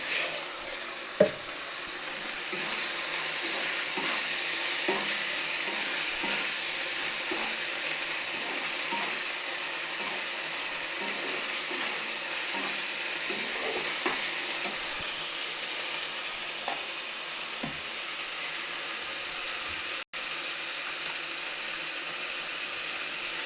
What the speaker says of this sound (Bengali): মশলাটাকে সুন্দর করে ভেজে নেব।